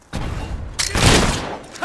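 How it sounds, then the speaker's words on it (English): Gunfire in the game Fable 3 during a battle, two close, heavy booming bursts, each a second or less, with a sharp hit near the end. "We're under fire!"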